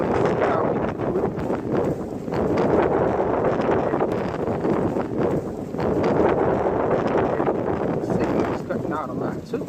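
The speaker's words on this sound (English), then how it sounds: "The wind's trying to blow me to dangerous areas." Gusty wind roars past outdoors during the flight of a small Eachine QX90C drone, a loud, fluctuating rushing noise that swells and eases in waves, with faint buzzing beneath.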